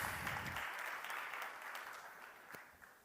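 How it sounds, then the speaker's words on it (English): Faint applause from an audience at a startup conference stage greets the next speaker, dense clapping that gradually thins out. "big round of applause, everyone, for Ignacio from Madrid"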